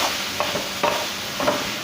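Chopped tomato tumbling into onions already fried in a pan, giving a steady close sizzle with a few brief stirring scrapes and bursts as it lands; no talking.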